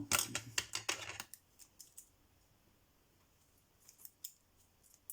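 Scissors snip through fabric for a handmade notebook cover: a quick run of close, crisp cuts at first, then a few scattered snips with quiet pauses between them.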